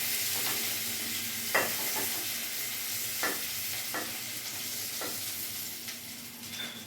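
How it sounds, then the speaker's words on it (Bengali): Prawns fry in hot oil in a home kitchen with a steady, close sizzle, while a few sharp clinks from a stirring utensil against the pan break through the crackle. "আমার এখানে চিংড়ি মাছগুলো ভাজা হয়ে গেছে"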